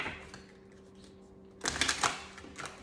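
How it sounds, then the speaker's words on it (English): Tarot cards are shuffled in a quiet room: a near-silent stretch with faint hum, then a brief burst of crisp riffling and slapping card sounds close to the microphone. "So I'm going to shuffle again."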